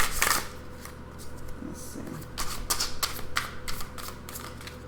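Tarot cards are shuffled in several quick riffling bursts, close and crisp, with a person speaking briefly.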